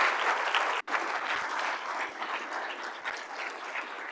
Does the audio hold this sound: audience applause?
yes